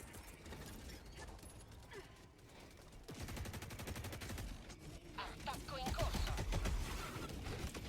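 Micro missiles fire at a harvester in Helldivers 2, a dense rattling burst of rapid launches and mechanical clatter that swells louder partway through and stays busy to the end.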